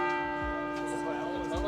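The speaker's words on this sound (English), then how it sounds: "That's the bell." A church bell rings loudly nearby in a German town, its sustained metallic tone sounding over regular low rhythmic thuds, with talk heard faintly at the same time.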